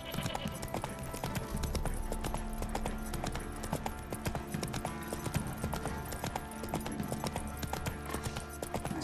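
Horse hooves clip-clop steadily in The Witcher 3, a dense, continuous trotting rhythm heard up close under a busy game soundscape.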